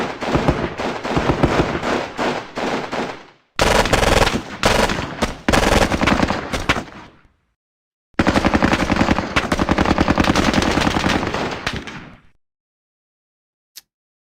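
Heavy machine gun fire in the Squad Battles Eagles Strike war game: long, loud sustained bursts of rapid automatic shots, broken by short pauses, ending with one last sharp shot.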